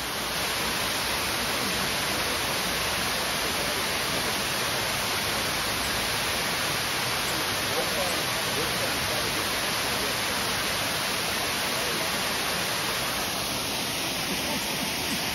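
A stream flowing at a scenic spot in the Cleveland, Ohio area, heard as a steady, dense rush of water that fills the whole span without a break, with no talk over it.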